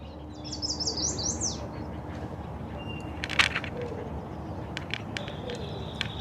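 Loud, bright bird chirps at Silverbell Lake in Tucson, a quick trill of calls followed by scattered sharper notes over a steady outdoor rumble of distant traffic.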